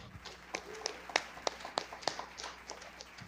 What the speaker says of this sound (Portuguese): Salva de palmas, vamos ficar de pé.